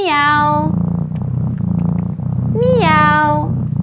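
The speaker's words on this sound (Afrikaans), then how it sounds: "Hoe maak 'n kat? Ja, miauw" A cat gives two clear, drawn-out meows, one at the start and one near the end, over a soft, steady musical background.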